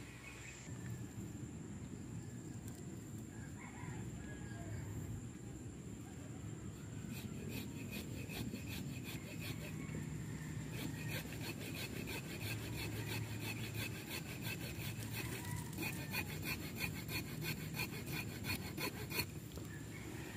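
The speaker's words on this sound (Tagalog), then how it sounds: "So, ang gagamitin namin ngayon ay lagari." A hand saw cuts through the thick stem of a Gmelina tree, making steady, continuous rasping strokes with a woody scraping texture throughout, close and even in loudness.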